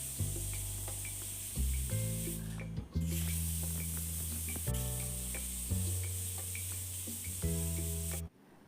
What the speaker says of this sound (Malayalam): അപ്പോൾ 3 വിസിൽ കേട്ടിട്ടുണ്ട്.